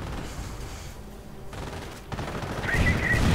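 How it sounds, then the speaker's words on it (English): Artillery fire in a Company of Heroes match, a US side shelling a German MG42 position: a dense, continuous rumble of explosions and gunfire that swells louder toward the end, with no talk. "And artillery going in against the MG42."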